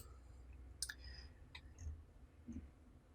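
A computer mouse gives a few quiet, separate clicks against a near-silent room, with no one speaking.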